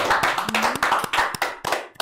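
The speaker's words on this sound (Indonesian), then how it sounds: "Boleh dong tepuk tangan dulu." Enthusiastic clapping from a small podcast audience, rapid overlapping hand claps filling the whole stretch, fairly close and loud.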